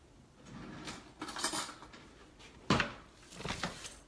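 Soup of olive oil, onion and bone broth is stirred in an Instant Pot, with a few faint scrapes and metallic clinks of a utensil against the pot.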